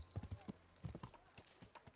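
Horse hooves clip-clopping in the medieval game Kingdom Come Deliverance, a quick uneven run of hoof strikes at close range and moderate volume, with a brief vocal sound over them.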